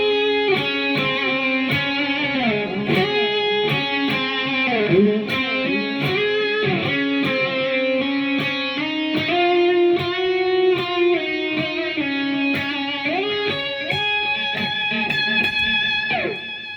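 Electric guitar solo played through a Line 6 POD HD500X multi-effects unit with delay and reverb, a sustained melodic lead line with bends and repeated notes ringing continuously at steady, loud level.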